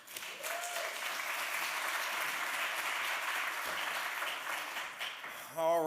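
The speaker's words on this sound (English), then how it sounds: "a smattering of applause hits the building" Audience applause fills a hall at a leaders summit as a speaker is welcomed to the stage, steady and moderately loud throughout, with a voice breaking in at the end.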